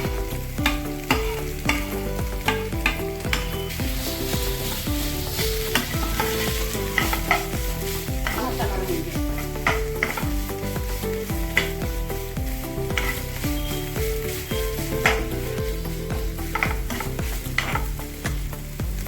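Paneer and onion stir-fried in a pan, a loud close sizzle with rapid, regular scraping strokes of a spatula throughout, no voices.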